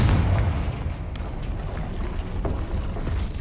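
Heavy blast of a Confringo fire spell in Hogwarts Legacy opens with a low boom, followed by sustained rumbling debris and scattered crackles and pops, close and loud, no voices.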